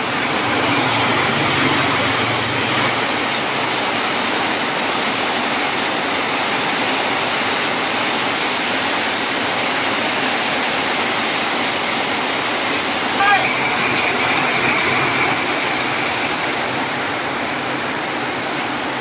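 Heavy rain pours down in a dense, constant hiss that fills the scene and stays loud throughout, with voices talking over it.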